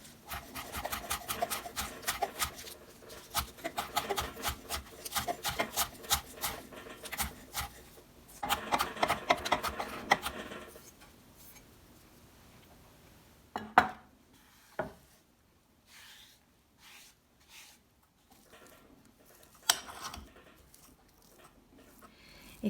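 Fresh dandelion, lovage, oxalis and cress herbs being chopped on a board, bursts of rapid knife taps in the first half giving way to sparse single chops and pauses, quiet and close.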